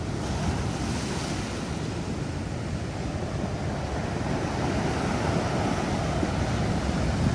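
Ocean surf breaking on a beach near Ensenada in Baja California, a steady near wash of waves with wind buffeting the microphone throughout and no voices.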